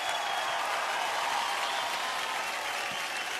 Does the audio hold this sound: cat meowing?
no